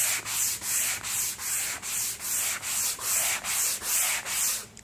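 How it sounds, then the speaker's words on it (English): Sanding strokes smooth rough spots on a wooden picture frame surface, about eleven even back-and-forth rubs in steady rhythm, close and clear with no talking. "they work really good on these types of surfaces just to smooth out any little rough spots"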